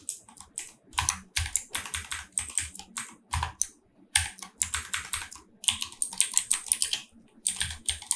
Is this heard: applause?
no